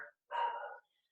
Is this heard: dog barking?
yes